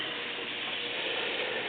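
A continuous rapid ratcheting clatter from an impact gun while its socket is swapped during Yamaha Vmax fork disassembly, close and steady for under two seconds with no talking.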